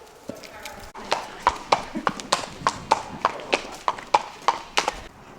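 Horse hooves clip-clopping at an equestrian vet check, a steady series of about a dozen sharp, close hoof strikes on a hard surface, with faint background voices.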